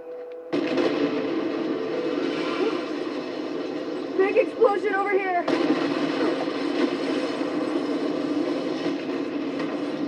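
A loud explosion bursts partway through Mirror's Edge Catalyst gameplay, its rumble carrying over steady game noise and music, with a player talking around it.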